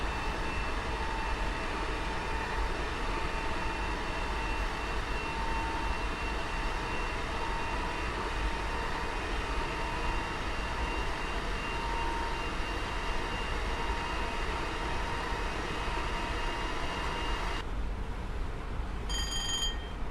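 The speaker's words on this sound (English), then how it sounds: "That motor is loud on these trains." Electric train motor in Train Simulator 2020 on the TfL Rail line from London Liverpool Street to Shenfield, a steady loud whine with rumbling running noise, continuous throughout and with no talking.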